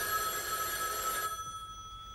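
A telephone bell rings steadily, a bright, continuous trill at moderate level that cuts off abruptly partway through, leaving a faint tail.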